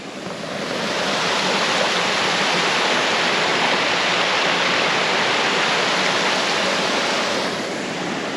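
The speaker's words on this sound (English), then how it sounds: "the river that I'm following now," The Schmittenbach river rushes steadily along a winter hiking trail in the Zürich Oberland, a loud, continuous broadband flow of water heard close by without any voices.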